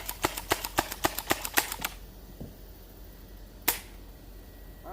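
A Nerf MisplacedMoose 31K-C blaster slam-firing darts: a rapid, evenly spaced string of about ten sharp snapping shots, close and crisp, then a lone louder shot after a pause.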